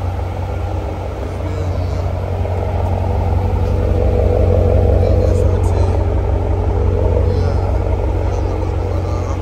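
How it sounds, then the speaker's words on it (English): A big Dodge SRT truck with a 392 engine rumbles steadily and loudly nearby throughout, a deep continuous drone under faint background sounds. "Big SRT truck."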